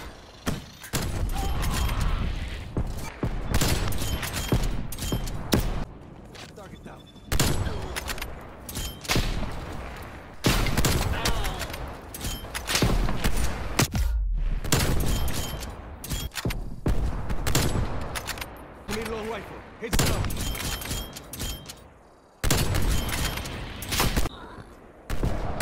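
Sniper rifle gunfire in Call of Duty: Black Ops Cold War, loud single cracks recurring every second or two across a long stretch of gameplay, each followed by bolt and mechanism clatter.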